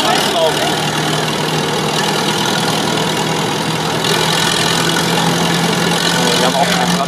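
A tractor drives a threshing machine by belt at a threshing festival, the machinery slowly spinning up with a steady low engine drone and broadband rumble throughout, voices talking over it.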